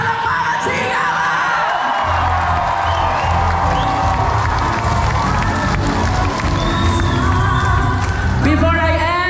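A large crowd at a speech event in Bauan, Batangas breaks into loud applause, cheering, yelling and whooping, sustained and close throughout.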